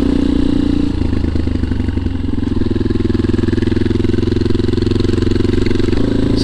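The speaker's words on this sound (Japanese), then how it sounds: "こういう道を走るのにはこのトリッカーはぴったりだね" A Yamaha Tricker motorcycle rides along a mountain trail, its engine loud and close, chugging steadily with a brief dip and then a firm, even pull.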